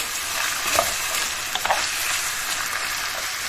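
Extra virgin olive oil sizzles in a pan with a continuous, close hiss. Occasional small pops and spatters rise above it briefly.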